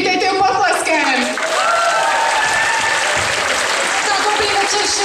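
An audience at a school Christmas academy event claps and applauds loudly and steadily throughout, with voices and cheers mixed into the dense clapping.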